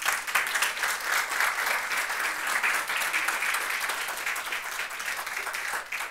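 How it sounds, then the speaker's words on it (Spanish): A church congregation applauds during a sermon, giving a continuous, fairly loud roll of many hands clapping that tapers slightly toward the end. "Denle un aplauso al Señor."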